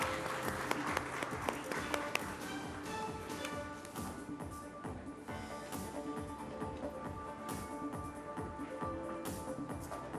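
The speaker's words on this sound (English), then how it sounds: "Huge round of applause." Audience applause at a renewable energy business conference, with crisp individual claps, steady and sustained, as music plays underneath.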